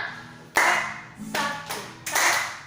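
Three sharp hand claps spaced about three-quarters of a second apart, each followed by softer dull pats on the thighs, a simple clap-and-pat rhythm in a quiet room.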